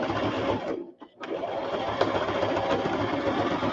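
A sewing machine stitches paper pocket dangles with a loud, steady mechanical whir nearby, pausing briefly for a moment before the motor runs on continuously.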